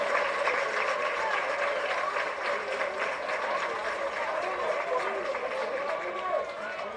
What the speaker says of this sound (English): We're going to get up to a big round of applause on both sides.